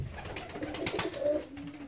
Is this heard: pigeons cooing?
yes